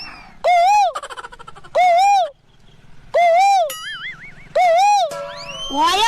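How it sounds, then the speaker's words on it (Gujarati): A koel calls in the jungle during a safari, loud and close: several repeated rising whistled phrases with short gaps, and a few other chirps and warbling notes in between, with no talk over them. "કોયલ બોલે."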